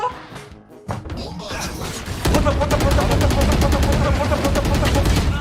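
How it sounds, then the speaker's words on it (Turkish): Rapid video game gunfire bursts into a dense, continuous stream of automatic shots that starts about two seconds in and stays loud to the end, after a few earlier scattered thuds. "Adama 30 mermi attım bir bile vurmamış."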